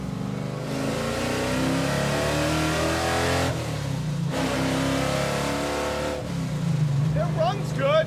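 A car engine runs steadily and revs up and down close by, with people talking over the rumble.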